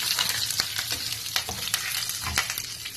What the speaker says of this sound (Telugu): ఈ పోపు దినుసులు కొంచెం వేగిన తర్వాత